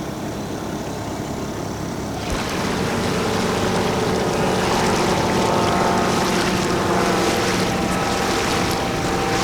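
Several boats motor out with their engines running during the 2021 MYC Montgomery race. A steady engine hum swells noticeably louder after about two seconds, with wind and water washing underneath.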